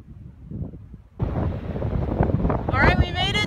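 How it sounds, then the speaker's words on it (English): Strong wind sweeps an open beach at Bullards Beach State Park on the Oregon coast, roaring across the microphone after a quieter start, with steady gusty rumble and a brief airy whistle near the end. "as you can see, it's a windy day, which is not unusual for the area"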